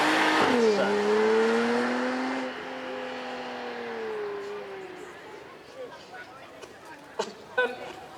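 A 5-litre V8 supercar rumbles past on a track at a supercar weekend, a loud rising engine note fading into the distance, with crowd chatter and a commentator's voice over it.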